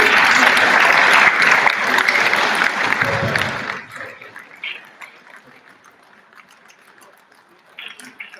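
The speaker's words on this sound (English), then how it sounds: "Please, a round of applause." A hall audience at a Nigerian Bar Association law week event applauds loudly and steadily for several seconds, then the clapping thins out into scattered faint claps and room noise.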